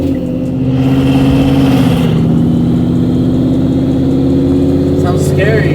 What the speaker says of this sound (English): Oh, you can definitely hear the turbos on this one.